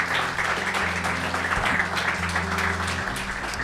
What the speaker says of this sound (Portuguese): Dê mais um aplauso a Jesus